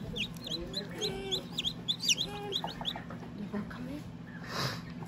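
Newly hatched chicks from a home incubator peep in quick, high, scattered chirps close by over a steady low machine hum, with faint talk in the background.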